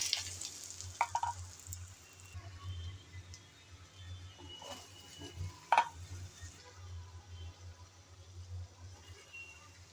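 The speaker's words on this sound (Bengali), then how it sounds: "সবগুলো আমড়াগুলো দিয়ে তেলের মধ্যে একটু উল্টিয়ে পাল্টিয়ে ভেজে নিতে হবে" Pieces of ambarella fruit frying in oil as they are turned, giving a quiet, steady sizzle with a low hum beneath it and a few scattered clinks and scrapes of a utensil, with no talking.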